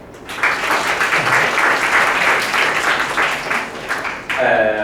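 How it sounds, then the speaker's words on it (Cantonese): Sustained applause from a crowd at a Hall A High Table Dinner in 2017, honouring the dinner organisers, fills about four seconds of dense, even clapping before a voice breaks in at the end. "Luna、Sina 同埋哥頓喺度俾啲掌聲你哋三個"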